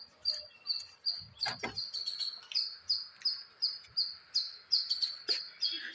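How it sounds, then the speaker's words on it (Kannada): Repeated high, bright bird chirps ring out outdoors in a steady rhythm, trilling calls roughly every half second over faint background ambience, with a few low thumps in between and no talking. "ಪಕ್ಷಿ ಪಕ್ಷಿ ಪಕ್ಷಿ ಸೌಂಡ್ ಆಗ್ತಿದೆ ನೋಡಿ"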